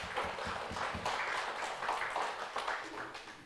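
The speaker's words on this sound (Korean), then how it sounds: "우리 먼저 하나님께 영광의 박수 한번 올려드릴까요?" A church congregation at Kaesong Church gives a round of applause during a worship service, with dense, rhythmic clapping from many hands filling the hall, steady throughout and tapering slightly at the end.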